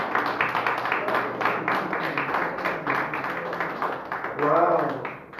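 A church congregation applauds, dense rhythmic clapping that runs throughout, with a voice briefly rising over it near the end.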